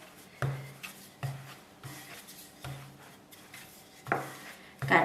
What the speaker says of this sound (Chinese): 面杖从中间的部位向两边擀，左右再擀，然后给它翻一个面，继续擀